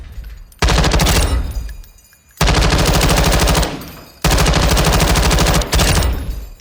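Bursts of fully automatic fire from a Fightlite MCR belt-fed machine gun, shot unmounted without its bipod in Call of Duty Modern Warfare II: three long, loud sustained strings of rapid shots separated by short pauses, then a brief final burst.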